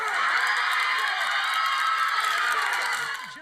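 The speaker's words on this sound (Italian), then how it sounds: "In aula scattano applausi, lacrime, abbracci" Courtroom crowd erupting after a guilty verdict, a dense sustained wash of cheering, shouts and applause that holds steady before fading at the end.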